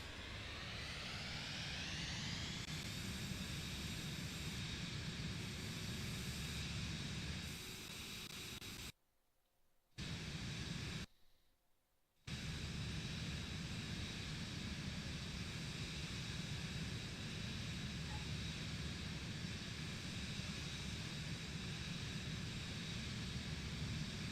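An airliner in a flight simulator game spools up and roars steadily down the runway for takeoff, a constant broadband engine rush with two brief dropouts, heard alone without talking.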